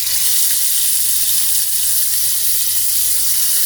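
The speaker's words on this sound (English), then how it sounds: "So once the oil is hot, start frying your fish." Steady, loud sizzling of fish shallow frying in hot oil, a dense continuous crackle and hiss with no pauses.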